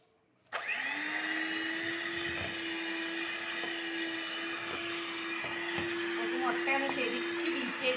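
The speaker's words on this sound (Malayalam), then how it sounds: "ആദ്യം തന്നെ നമുക്ക് ഈ മുട്ടയൊന്ന് ബീറ്റ് ചെയ്തെടുക്കാം" An electric beater whirs steadily as eggs are beaten for a black forest cake, switching on abruptly and running at a constant high motor drone close by, with a few faint clinks against the bowl.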